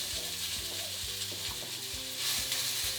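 Onion fries in hot oil in a frying pan, a continuous close sizzle with soft stirring scrapes throughout.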